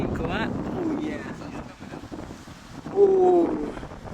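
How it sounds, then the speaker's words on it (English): Wind buffets the microphone during a ride in a tuned 650 hp Mercedes-AMG GT S, a steady low rumbling roar that stays under speech throughout, with a short tonal whine partway through. "It's pretty windy"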